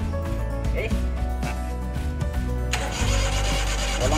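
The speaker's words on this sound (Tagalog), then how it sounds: "Walang gasolina ayaw umandar kasi walang gasolina." Suzuki F6A 12-valve engine with no fuel, starter cranking it repeatedly in a rhythmic chugging whir without catching, close and loud, with a voice talking over it.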